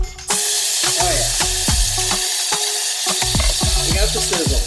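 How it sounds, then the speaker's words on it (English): Loud, steady sizzling of entomatadas ingredients frying in an oiled pan, with repeated scraping and stirring knocks against the pan throughout. "We got the sizzle."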